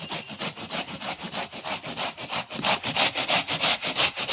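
Bottle gourd being grated on a kitchen grater, a close, rhythmic series of rasping strokes repeating steadily about three times per second with no talking.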